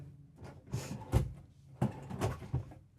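A few wooden knocks and slides of small drawers being opened and shut in the bedroom of a Newmar King Aire 4519 motorhome, in quick irregular bursts close by in a quiet room.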